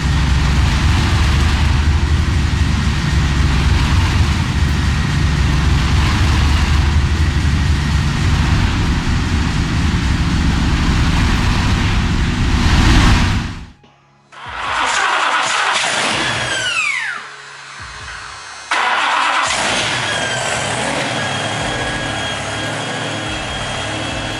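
An old high-speed diesel engine cranks and fires, running loud and rough, then cuts off abruptly before restarting and settling into a steady, close, mechanical idle with no voices.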